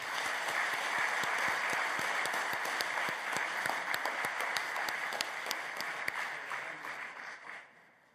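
A church assembly audience applauds steadily to approve newly installed officers, dense broadband clapping sustained for about seven seconds before fading out, with no talk over it.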